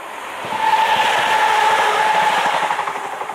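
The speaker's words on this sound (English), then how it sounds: "You tell I live by a train track." A train rumbles past close by, its noise swelling quickly and holding steady with a high metallic squeal riding over the roar.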